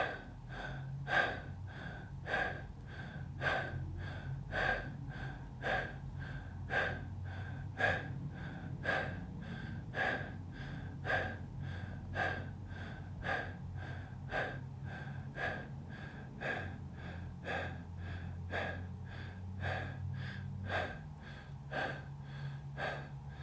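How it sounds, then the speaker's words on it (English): Guided breathwork of 25 connected breaths through the nose or mouth: a long, even series of close, rhythmic breaths, each one audible and regularly spaced, with no talk over them. "we will take 25 connected breaths through the nose or mouth"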